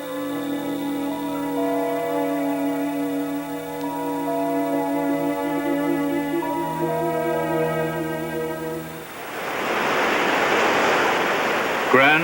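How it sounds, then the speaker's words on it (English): Grand Falls on the Exploits River in central Newfoundland gives a steady broadband roar, rising into a fuller rushing wash near the end and partly layered under a tonal background bed. "Grand Falls on the Exploits River"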